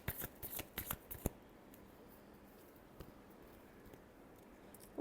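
Tarot cards are shuffled in a quick rapid flurry of crisp riffling snaps near the start, then only a faint quiet room remains with a couple of soft taps.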